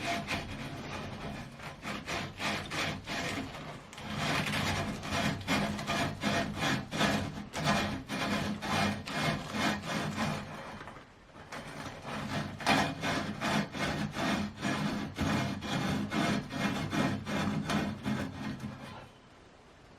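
Sandpaper of 150 grit rubbing copper water pipe before soldering a main waterline ball valve, close rhythmic back-and-forth rasping strokes in two steady bursts with a short pause between.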